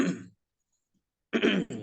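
A light cough or throat clearing during a gurah herbal nasal-cleansing training session, two short raspy bursts at close range separated by about a second of silence.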